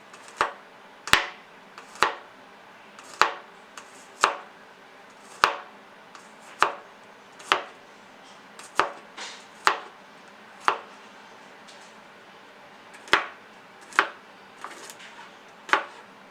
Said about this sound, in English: Chop off this end piece right here. Chop it up to the size you want.